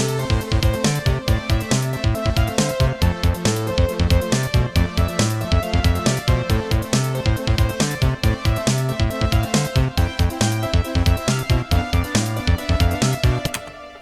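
Korg M1 synthesizer playing a retro Mega Man–style lead melody over a full, dense backing of driving bass and chords, with a rapid, steady rhythm pulsing loudly throughout.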